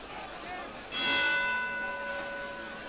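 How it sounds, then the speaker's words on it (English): A single bell rings to end the 11th round of a Henry Cooper versus Joe Erskine boxing match, a clear sustained ring that fades slowly over crowd noise. "And there's the bell to end the 11th round."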